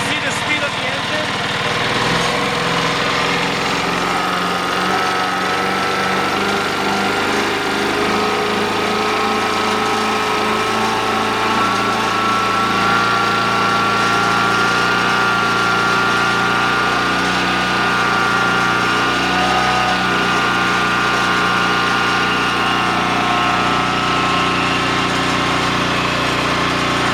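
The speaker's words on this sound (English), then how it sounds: "we're going to go ahead and speed up the engine" An Amtex Prowler 14 hp engine runs steadily at raised speed, a loud, continuous mechanical drone with a whining tone that holds even throughout, close to the listener.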